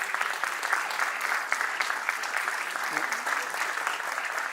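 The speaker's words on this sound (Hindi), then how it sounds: "हम हमारी तालियों की गूंज के साथ अभिनंदन करेंगे।" Steady applause from an audience welcoming guests onto the stage at a centenary celebration and headquarters inauguration ceremony, a dense, even wash of clapping that continues throughout without a break.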